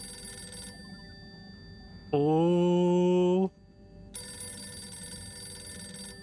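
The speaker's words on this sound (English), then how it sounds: "That's such a dank-ass phone." An old-fashioned telephone bell rings in the video game Harold Halibut, one loud continuous burst of about a second and a half set between stretches of steady background ambience, with a brief spoken exclamation nearby.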